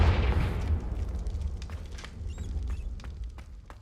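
Confringo fire spell explosion in Hogwarts Legacy, a heavy low boom at the start trailing into rumbling debris with scattered sharp crackles and pops, fading over a few seconds, no voices.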